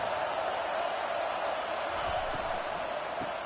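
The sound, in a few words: college football stadium crowd cheering for the defense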